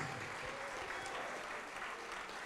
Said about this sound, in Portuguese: vamos aplaudir mais ao nome de Jesus